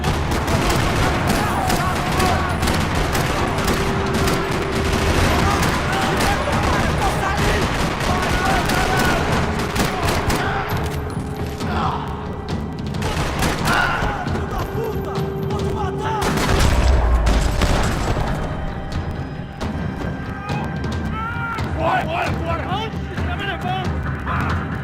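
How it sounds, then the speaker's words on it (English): Sustained gunfire fills a parking lot during a shootout in the video game Max Payne 3, with rapid bursts and booms rattling continuously over a dense, loud mix while voices speak underneath. "Another parking lot rattling with gunfire."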